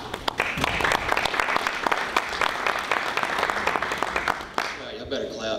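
Audience applauding at an MMA press conference, dense steady clapping for about four and a half seconds that then stops abruptly, leaving quieter room sound.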